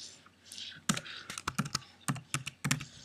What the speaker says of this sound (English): We're going to type in Obama.